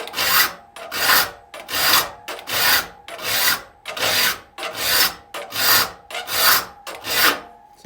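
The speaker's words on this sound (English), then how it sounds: "So we come in with a triangular file." Triangular file rasping across the teeth of a crosscut saw, a loud, close, regular back-and-forth scraping of about a dozen even strokes with brief gaps between them.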